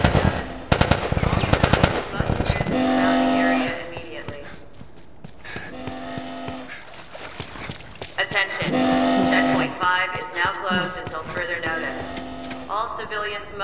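Automatic gunfire rattles in The Last of Us Remastered on PS4 Pro, with a rapid burst at the start and more shots later, mixed with shouting voices and tense combat sounds.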